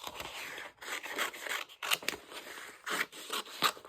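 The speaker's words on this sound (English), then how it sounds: "I'll definitely cut these out." Scissors snip leaves out of a paper page for an art journal, giving a string of crisp, close cutting and rustling sounds with short pauses between strokes.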